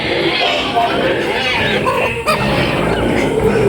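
Pet chickens being fed their feed, a busy chorus of clucking and fowl chatter close by, mixed with ambient noise and a brief thump partway through.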